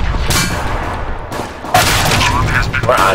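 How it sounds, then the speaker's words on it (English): Grenade explosion in a Counter-Strike: Global Offensive match, a loud booming blast with crackling gunfire around it, close and harsh, while a player talks over it. "Grenade out!"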